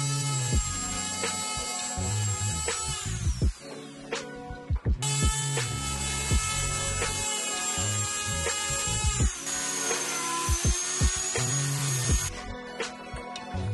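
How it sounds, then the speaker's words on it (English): A Dremel rotary tool grinds through the plastic cover of a Meta Quest 2 Link cable, a loud, close, high-pitched whine that drops in pitch as it bites in, with pauses between passes. "Use the Dremel to remove the plastic cover."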